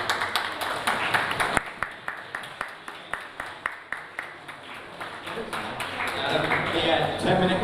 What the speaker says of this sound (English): Round of applause for the winners.